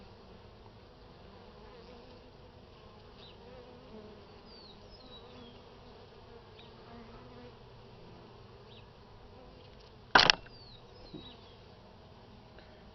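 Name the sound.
honey bees buzzing at an opened hive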